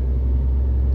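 Lightly loaded truck on an icy road at minus one degree, its engine giving a steady heavy low rumble in a brief near drone, with no distinct slip bursts standing out.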